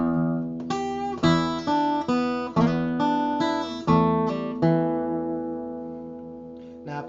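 An acoustic-toned guitar plays a classic blues shuffle, pinched bass notes on the low strings under plucked chords in a steady, bouncing rhythm, close and clear with the last chord left ringing.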